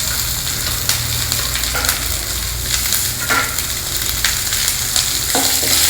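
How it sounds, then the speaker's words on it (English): Dal and chopped onion fry in hot oil in a pan, producing a loud, constant close-up sizzle punctuated by sharp spatula clicks and scrapes from stirring, with no voices. "Fry the onion also in it."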